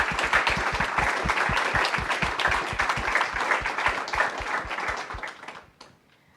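A seated audience at a teaching panel applauds steadily, many hands clapping together in a dense, close roar that holds for several seconds and then tapers off abruptly into silence.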